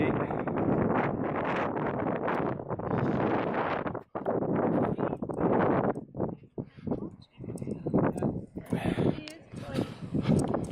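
Strong wind at Corfe Castle, open farmland all around, roars and buffets against the microphone in loud gusts, with people talking intermittently over it.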